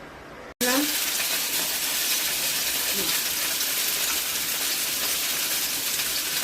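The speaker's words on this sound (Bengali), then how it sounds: "এবার আমি ফুলকপি আর আলুটা ভেজে নেবো।" Cauliflower and potato pieces hit hot oil in a pan after a brief pause, then give a loud, steady, hissing sizzle that carries on throughout, with a faint voice briefly in the background.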